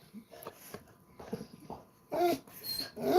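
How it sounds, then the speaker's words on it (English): An indoor basset hound whines and whimpers in soft, broken bursts that grow louder and more insistent toward the end, heard close with no talk. "What do you hope to accomplish by whining at me like that?"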